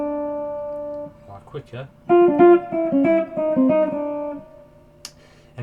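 A jazzy jump blues lick on electric guitar: a short run of clean, close single notes and double stops, played after a brief spoken word.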